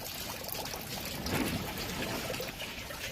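Water pours and trickles steadily into a pea-gravel aquaponics grow bed inside a greenhouse, a soft continuous splashing flow heard close without any voices.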